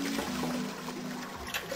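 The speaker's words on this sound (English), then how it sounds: "I heard a loud flushing noise." A toilet in the video game Zero Escape flushes with a steady rushing, gurgling wash of water that fills the whole short moment at an even, moderately loud level, with no voices.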